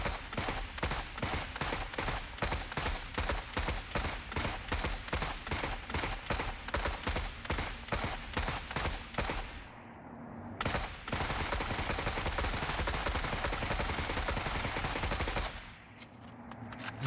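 Sustained automatic gunfire in the video game Forever Winter, evenly spaced loud shots in a long string, a brief pause, then a continuous roar of fire before it cuts off.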